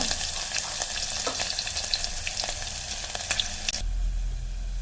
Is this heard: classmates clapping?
no